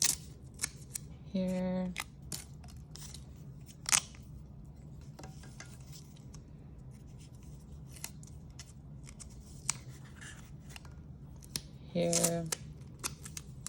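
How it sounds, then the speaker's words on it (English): Adhesive tape is torn from a roll to fasten bendy drinking straws for a small shade-structure model, giving two short screechy rips well apart, with a person talking throughout. "I'm gonna tape these bendy straws down."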